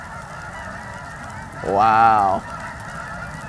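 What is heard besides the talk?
geese honking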